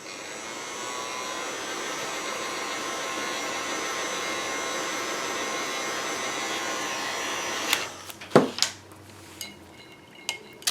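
A hair dryer drying Posca paint pen work on printed vintage ephemera blows a steady, close, loud whoosh. It cuts off, and a few clatters and knocks follow.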